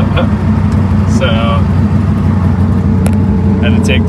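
A Mitsubishi 3000GT AWD twin turbo race car on an errand drive, its engine droning low and steady from inside the cabin, with faint tonal chirps and clicks over it.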